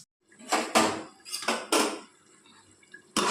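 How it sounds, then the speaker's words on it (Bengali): A thin metal plate clanks and rattles several times in short bursts as it is set over chicken cooking in a pan for a simple Bengali chicken curry. The sound is close and clear, with short pauses between the bursts. "এবার একটা পাতলা থালা দিয়ে আমি এইভাবে মাংসটাকে চাপা দিয়ে"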